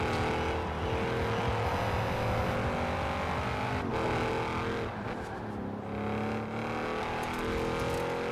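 A car driven in Forza Horizon 4 holds a steady, loud engine drone with shifting harmonics as it accelerates and revs, continuous through the whole stretch with no talk.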